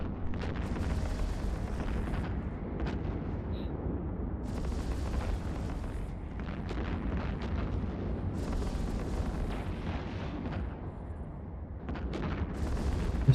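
Spaceship weapons fire in EVE Online in repeated heavy bursts and booming volleys, rising and falling over a constant low rumble with no talking.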